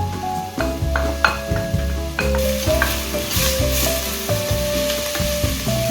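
Garlic and onion sautéing in a pan for Filipino beef pinapaitan soup: a loud, steady sizzle with repeated stirring and scraping of the utensil against the pan.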